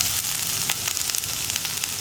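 Chopped ginger fries in hot oil with mustard seeds that have already popped, producing a steady, loud, close sizzle with faint crackles and spatters throughout.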